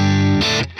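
Electric guitar played through a Quad Cortex modeling a Brick 2203 amp into a 1x12 Zilla cab, a loud, distorted sustained chord that cuts off abruptly, followed by a brief burst, with no talking.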